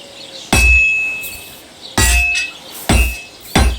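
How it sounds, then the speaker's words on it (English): Hammer blows ringing on a workpiece over an anvil at a blacksmith's forge in Kingdom Come Deliverance 2, four sharp metallic clangs spaced unevenly with a short bright ring after each. "if it was all about hitting an anvil with a hammer, any dolt could do it"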